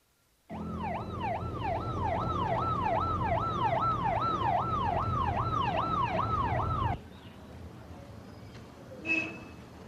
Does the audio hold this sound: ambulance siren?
yes